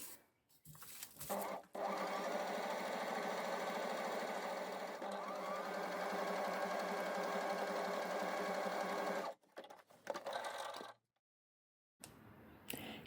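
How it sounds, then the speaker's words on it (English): A sewing machine runs a long steady stretch of gathering stitches into the sleeve head of a McCall's 8325 honeycomb blouse, a near, even motor whir with short stops and restarts at the start and end. "let's put the gathering stitches in the sleeve head"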